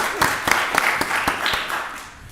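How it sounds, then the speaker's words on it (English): Short burst of audience applause at a county board of commissioners meeting, a roomful of hands clapping steadily and fairly loud, with a few louder claps and some voices mixed in. "Give Miss Kathy behind the scenes a round of applause."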